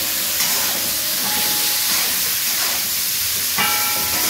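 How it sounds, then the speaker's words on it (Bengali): Fish fries in a pan with turmeric and salt, giving off a constant bright hiss and sizzle, with a brief sharper flare near the end. "নেড়ে চেড়ে ভেজে নেবো।"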